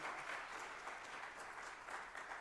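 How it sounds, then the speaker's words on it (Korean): A congregation at a Holy Spirit revival meeting applauds the worship team, a soft, even wash of many hands clapping that runs unbroken through the moment. "어제 오늘 우리 찬양팀을 위해서 또 박수 한번 해주세요"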